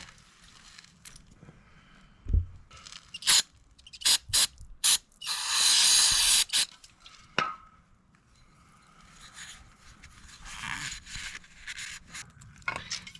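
A series of short hissing bursts from an aerosol can of carb cleaner sprayed on a Sears Craftsman 9HP wood chipper's carburetor, then one long sustained spray, loud and close, with clicking handling noises between.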